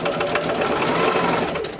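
A Singer heavy duty sewing machine running a straight stitch, its needle clattering in a fast, steady mechanical rhythm, close and loud, with no talk.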